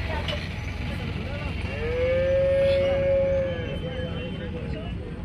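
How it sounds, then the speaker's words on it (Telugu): Cows moo at a busy Tuesday cattle market crowded with cows and buffaloes. One long, loud, close moo rises above a steady murmur of people and market noise. "చాలా అంటే చాలా ఈ ఆవులు వచ్చినాయి అన్న"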